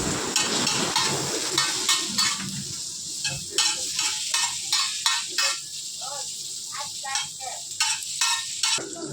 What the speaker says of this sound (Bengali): গাজর কুচি, টমেটো কুচি, হালকা পরিমাণে পেঁয়াজ আমি হালকা ফ্রাই করে দেবো